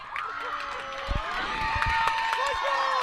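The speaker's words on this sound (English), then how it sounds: "as you hear the crowd roar with excitement" A crowd at a high school softball championship game roars with excitement after a runner slides safely into third, cheering and shouting steadily throughout, with some voices standing out above the noise.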